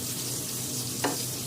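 Rice fries in a pan with egg, onion, garlic and mixed frozen vegetables. The steady, close sizzle runs throughout, with one brief scrape of stirring near the end.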